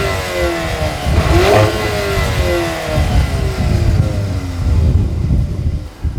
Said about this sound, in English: Stab the throttle a few times and it'll growl at you, but in a fairly restrained way